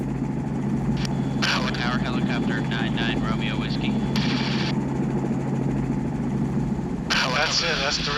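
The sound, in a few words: aircraft flying over the reservation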